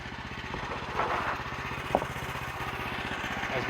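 Woodland Mills HM130 portable sawmill running steadily as its blade cuts down through the heart of an oak log, a continuous close engine drone with a rapid pulsing rhythm and one brief sharp knock midway.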